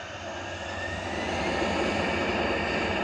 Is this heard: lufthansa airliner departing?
yes